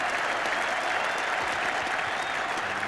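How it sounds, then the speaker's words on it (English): Cricket supporters at a one-day final applaud a fine innings, a dense, continuous ripple of many hands clapping across a large ground, steady and fairly loud without a break. "And not only Northamptonshire supporters will be clapping there"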